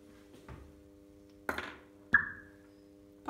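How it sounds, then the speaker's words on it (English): A hydrogen test with a lit splint gives a few sharp pops, one with a brief high squeak trailing off, among quiet knocks against a faint steady hum. "We heard the squeaky pop for the hydrogen."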